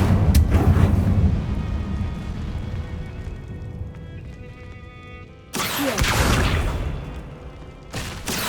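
An Incendio fire spell cast in Hogwarts Legacy, a rumbling whooshing burst of flame that swells loudly, fades, then flares again in a sharp second blast near the end.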